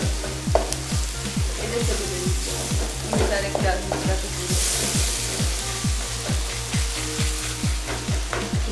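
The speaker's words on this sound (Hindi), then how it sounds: "हमने टमाटर डाल दिए इसमें और अब हम इसको भूनेंगे दोबारा" Tomatoes fry in a pan for mutton gulistani, a loud steady sizzle broken by a regular run of rhythmic spoon scrapes and stirring knocks, close up, with no talking.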